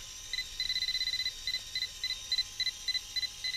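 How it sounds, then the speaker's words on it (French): Laser level receiver staff, used with a NEDO benjamin laser level on a telescopic tripod, emitting rapid clusters of short, high electronic beeps in an irregular rhythm, clear and close with no talking. "Quand elle sonne en haut en bas, une sonnerie continue"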